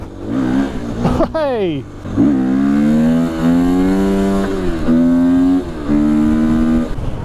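A Husqvarna 250 enduro motorcycle engine revving hard for a wheelie, a sharp rising blip followed by loud sustained throttle with shifts in pitch, close up, with a brief shout from the rider.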